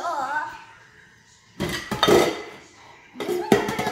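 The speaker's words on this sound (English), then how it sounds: "Cleaning the dishes" Dishes clink and clatter in two loud bursts of washing-up, with plates, cutlery and glass knocking together close by and quiet pauses between.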